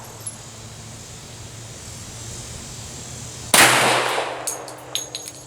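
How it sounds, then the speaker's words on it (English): A single sharp M1911A1 pistol shot cracks out at an outdoor shooting range after a stretch of quiet background hum, followed by a decaying echo and a few faint clinks. "So let's shoot the last bullet here"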